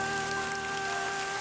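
Heavy rain drums steadily on a surface outdoors in the mountains, a dense, unbroken hiss with no pauses.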